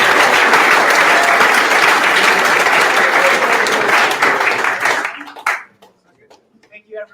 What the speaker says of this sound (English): just maybe a final round of applause for all the donors